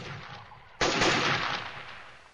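Gunfire in the Delta Force Land Warrior video game breaks out abruptly after a quiet moment as a sudden loud burst, then rolls on as sustained rattling fire that slowly tails off.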